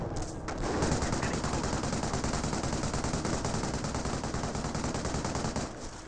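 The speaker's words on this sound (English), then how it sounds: "Pioneers receiving quite a bit of fire right there." Sustained machine-gun fire rattles continuously in a Company of Heroes battle, with dense rapid bursts and a fusillade near a bunker, loud and steady throughout with no talk.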